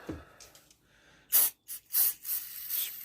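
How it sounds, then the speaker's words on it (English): Short bursts of cleaner spray hiss into an MT10 center differential, a few quick pumps in a row with brief pauses, close up and fairly loud. "kind of try to spray gently into the diff."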